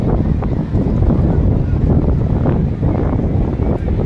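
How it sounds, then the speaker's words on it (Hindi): Strong wind buffets the microphone beside a lake, a steady low roaring rumble that stays loud and constant throughout with no clear voices. "मैं आपको बता नहीं सकती कि इतनी बेहतरीन हवा चल रही है"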